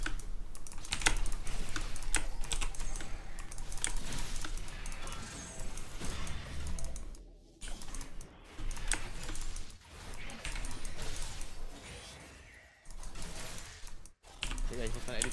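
Computer keyboard typing during a League of Legends match, with rapid, dense clicking that runs almost continuously and breaks off in a few brief pauses. Voices can be heard faintly underneath.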